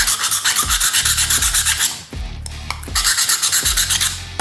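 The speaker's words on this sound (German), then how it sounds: "Und jetzt kann ich das ganze Ding sofort schleifen." Rhythmic back-and-forth sanding of freshly hardened glue, loud close rasping strokes in two bursts separated by a brief pause.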